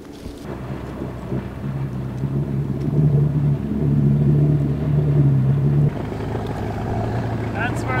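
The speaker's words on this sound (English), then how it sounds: "I hear the boat." A boat engine rumbles low and steady on a windy mountain shoreline, building to a louder hum before cutting off abruptly near the end, with wind noise and faint rustling around it.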